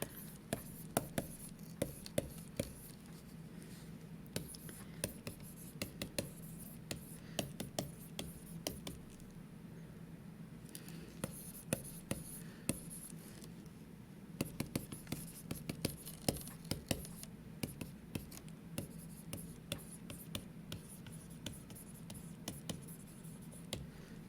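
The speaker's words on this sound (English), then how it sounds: "So let's just write that as a little note here." A pen writes a handwritten note during a chemistry titration lesson, making faint, scattered scratches and taps that recur over about twenty-four quiet seconds.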